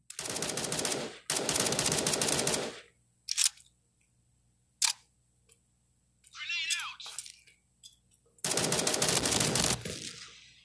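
P90 submachine gun in a mobile multiplayer game, with loud rapid automatic bursts up front and again at the end, separated by quiet gaps holding a few single sharp clicks and brief game effects.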